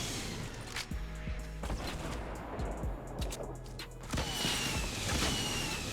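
Gunfire in the video game Fortnite, scattered shots and heavier blasts mixed with impacts and mechanical clanks, dense and continuous rather than isolated, close and steady in loudness.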